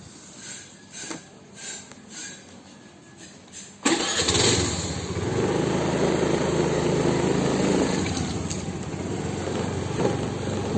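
A Honda Activa scooter engine starts abruptly after a few seconds of quiet background, then settles into a steady, close, buzzing idle that holds to the end.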